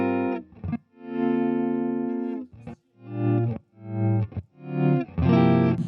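Bass guitar played through a Zoom multistomp pedal set to a slow attack effect, each sustained distorted note swelling gradually up from silence in a series of loud, separate, rising swells.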